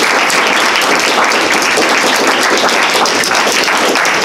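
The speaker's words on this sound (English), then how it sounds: "let's give everybody one more round of applause" Sustained audience applause at a poetry reading, loud and dense with many hands clapping continuously throughout, no voices standing out.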